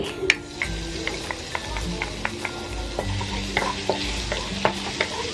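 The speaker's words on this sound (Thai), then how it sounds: "เดี๋ยวเราจะผัดหมูให้หอมก่อนค่ะ ผัดกับเครื่องปรุงของเรา" Minced pork stir-frying with garlic, coriander root and pepper seasoning in a pan, a continuous sizzle broken by frequent sharp clicks and scrapes of a utensil against the pan, close and alone.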